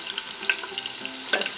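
Two garlic cloves frying in about two tablespoons of olive oil, giving a steady soft sizzle with a couple of brighter crackling bursts and faint stirring clicks.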